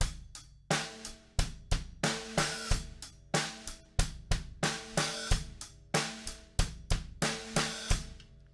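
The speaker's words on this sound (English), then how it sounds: "We're going to play that open hi-hat," A drum kit plays a repeating groove of sharp hits, with open hi-hat strikes ringing out and decaying between beats, no voices.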